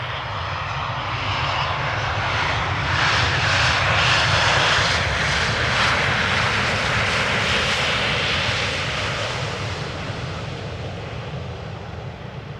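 An Embraer 195 long-range jet passes at Amsterdam Schiphol, its engines a broad, steady roar that swells to a peak midway and then eases slightly, with no voices.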